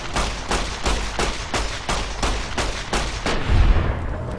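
Rapid shots from a gun in the video game Fallout: New Vegas crack out in a steady rhythm, about eight loud close reports over four seconds, with no voices.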